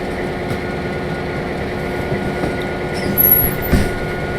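A long freight train running in the Trainz TRS19 railway simulator, a steady low rumble of rolling wagons with faint wheel squeal and a brief louder swell near the end.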